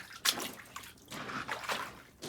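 Water flowing into a flooded cellar with a perforated pipe and sump pump well, uneven trickling and sloshing in irregular surges, close and fairly quiet, no talking.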